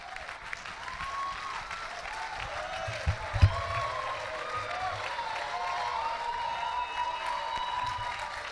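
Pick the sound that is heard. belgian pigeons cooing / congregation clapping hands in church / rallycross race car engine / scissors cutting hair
congregation clapping hands in church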